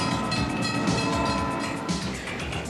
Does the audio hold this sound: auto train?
yes